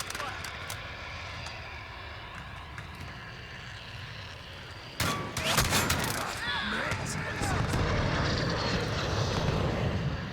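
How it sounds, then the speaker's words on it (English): An enemy UAV drones overhead in Modern Warfare hardcore multiplayer. A steady engine hum runs under sharp gunfire clicks and grows louder and busier halfway through, with voices in the mix. "Enemy UAV overhead"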